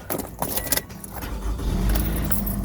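A 2016 Toyota RAV4 XLE, up on a driveway for a brake and rotor job, has its engine started after a jangle of keys, then settles into a low steady idle close by.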